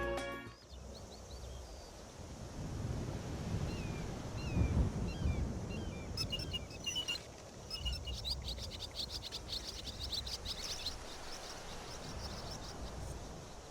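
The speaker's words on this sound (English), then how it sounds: "Every bird will make a variety of realistic bird sounds" Birds chirp and call in a forest in Skyrim Special Edition with a bird-sound mod, with scattered light tweets over a steady wind-like ambient rush and no talking.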